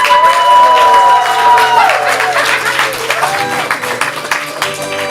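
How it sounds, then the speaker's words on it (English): An audience at a ComedySportz improv comedy show applauds loudly and continuously, with a tonal voice or melody sounding over the clapping. "keep the applause going as we talk"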